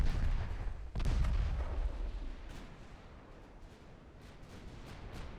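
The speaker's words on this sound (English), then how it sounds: "still have some rounds left for those main guns. Putting them to good use." A battleship's main guns fire in a naval game, heard as a heavy low boom and then a long rumbling roll with faint distant cracks, no talking.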